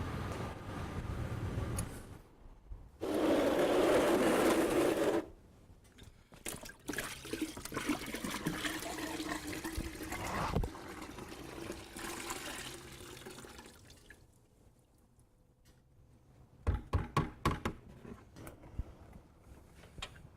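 Coolant drains from a car radiator during a cooling system flush, with a rushing, gurgling pour that swells loudly for a few seconds and then trickles and splashes more softly, followed by quieter dribbles and a few clanks.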